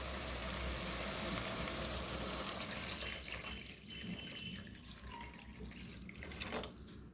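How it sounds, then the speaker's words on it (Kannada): Three cups of water poured into a cooking pot for upma make a soft, steady splashing and trickling, faint and continuous with no talking. "ಈಗ ಆ ನೀರನ್ನು ಹಾಕ್ಕೊಳ್ತಾ ಇದ್ದೇನೆ."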